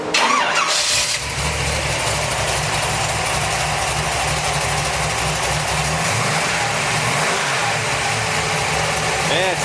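The 355 V8 in a 1973 Corvette coupe has just started and idles with a steady, loud rumble, running through ceramic-coated headers. Electric fuel pumps and fans are fitted. Voices talk over the engine.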